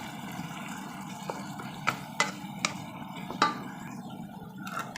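Pork and chicken adobo is stirred in a pan: a spoon scrapes and clinks against the metal several times over a constant soft sizzle, with no speech.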